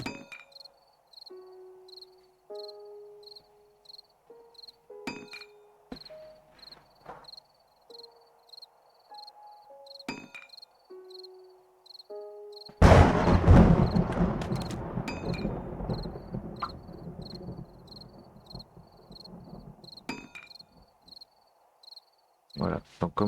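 Crickets chirping at night in the game 7 Days to Die, a faint repeating high chirp pattern throughout, with scattered clanks and a loud rumbling burst partway through.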